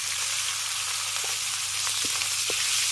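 Steady, dense sizzling of dried chilies frying in hot oil with fried fish, a constant crackling hiss with a few soft clicks, close by and with no voices.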